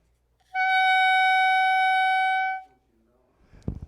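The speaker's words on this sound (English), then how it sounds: "you blow air between the reed and the mouthpiece" Clarinet mouthpiece and reed blown without the instrument, giving one loud, piercing, steady high squawk held for about two seconds before cutting off, then a short clatter of handling noise.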